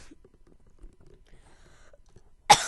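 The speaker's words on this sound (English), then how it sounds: "Sorry about that. I had to cough." A single sudden cough bursts out near the end, loud and close, after a stretch of near silence with faint background rustle.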